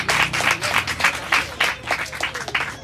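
A church congregation claps loudly together during a Hindi-Urdu sermon, steady dense applause with rhythmic bursts throughout, close and filling the room.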